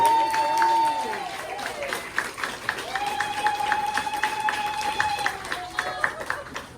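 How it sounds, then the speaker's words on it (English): An audience at a storytelling event applauds the first teller, a steady wash of clapping that carries on for several seconds beneath a voice and some tonal sound. "Give them a huge round of applause."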